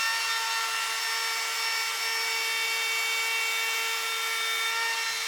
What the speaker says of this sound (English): I'm just routing out a rebate in the back of each piece.